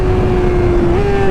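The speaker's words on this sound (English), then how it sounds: "Oh, that slipper clutch" Honda CBR600RR motorcycle engine on a 2024 model, revving steadily through a slipper-clutch downshift, a strong droning tone that rises slightly near the end, loud and close.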